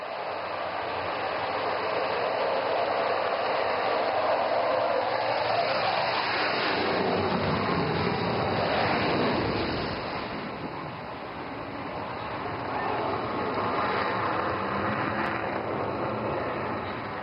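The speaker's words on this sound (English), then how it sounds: "Call sign Eklavya Rafale विमान अब उड़ान भरने के लिए तैयार है।" A Rafale fighter jet roars at takeoff from an emergency airstrip in Assam, a loud, dense rushing blast that swells and slowly fades as it climbs away, with no voices over it.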